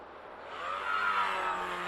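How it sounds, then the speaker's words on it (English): The electric motor of a scratch-built RC model plane runs with a steady whine that rises slightly in pitch, sounding somewhat rough and uneven, close and continuous for a couple of seconds. "Oh no, it's definitely not quite right, is it, that motor?"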